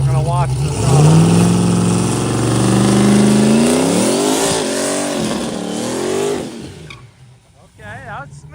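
The McFlurry drag car's engine, its throttle cable just repaired, revs hard and climbs in pitch through a pass, a loud, close roar that cuts off sharply near the end, followed by brief chatter.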